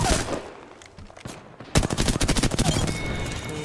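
Gunfire in the game Apex Legends: a few scattered shots, then a dense, loud burst of rapid automatic fire from about halfway through.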